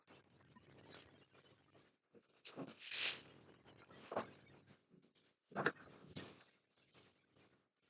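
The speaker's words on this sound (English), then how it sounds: "Or shuffle and a cut." Tarot card deck being shuffled and cut, a run of soft, faint papery riffles and taps in irregular bursts, close by and with no talking.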